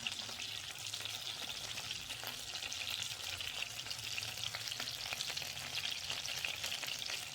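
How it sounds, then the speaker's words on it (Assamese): Chicken strips fry in hot oil in a home kitchen, a continuous, even sizzle and crackle that holds steady throughout, fairly quiet and close with no voices. "এতিয়া এনেদৰে লুটিয়াই আপুনি প্ৰায় 10 মিনিটমান সময় মাংসখিনি ভাজিব"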